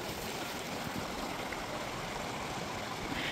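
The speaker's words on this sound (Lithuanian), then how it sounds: "Iš kalnų šitas upelis atiteka." A mountain stream rushes steadily nearby, a continuous broadband wash of flowing water with no break and no voices.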